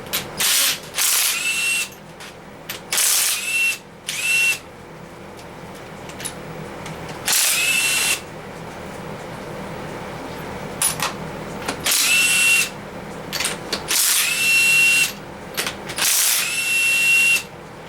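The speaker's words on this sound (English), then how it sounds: "really impressed with this impact" Impact driver hammering out bolts on an old engine outdoors, loud bursts of rattling impacts repeated about ten times with short pauses between, no talking.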